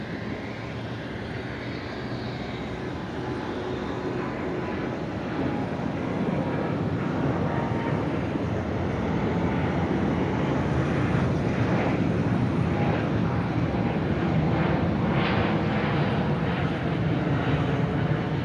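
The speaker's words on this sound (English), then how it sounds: "We do have China Eastern now rolling hard and fast down runway 34 left for departure." A China Eastern Airbus A350 takes off from runway 34 Left at Sydney Airport at night. Its jet engines give a loud, sustained, broad roar that builds gradually and stays steady at a middle distance, with no talk.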